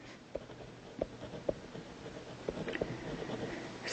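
A pen scratches across paper while a precedence diagram is drawn, with faint, quiet strokes and several distinct taps spaced irregularly, close by and with no speech.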